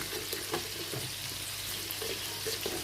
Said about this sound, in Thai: ผัดแค่พอหอม ๆคือมีกลิ่นที่แกงหอมๆเราก็พอเลยจ้ะ